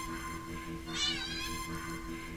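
A cat in a video game gives one drawn-out, wavering meow in the middle, heard over a continuous background hum of game ambience.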